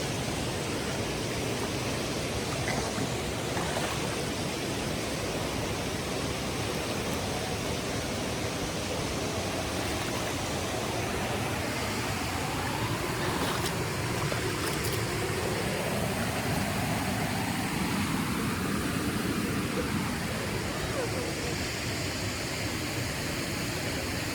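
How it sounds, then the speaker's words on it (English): Steady, loud broadband rushing of a creek waterfall in Metro Atlanta fills the whole stretch, a constant roar with no pauses and no voices. "I know it's kind of loud because of the waterfall behind me"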